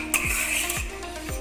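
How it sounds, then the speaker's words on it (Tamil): Spiced brinjal (eggplant) fry being stirred in a pan, with three scraping strokes of a spoon against the metal at a steady rhythm over a faint sizzle, close and alone. "சேர்த்து இதை இப்படி நல்லா கிளறி, இதை இப்போ இப்படி கிளறியாச்சு"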